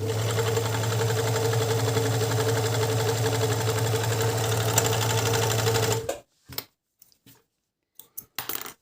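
Praleska four-thread overlock sewing machine stitching, a loud steady mechanical whir with a fast rhythmic hum running for six seconds, then stopping abruptly and leaving only a few faint handling clicks.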